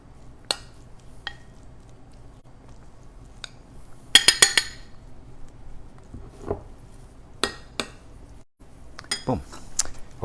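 A spoon clinks against a bowl while mixing empanada filling, with a burst of rapid metallic clinks midway and scattered scrapes and taps before and after, fairly close and moderate in level, with faint background voice.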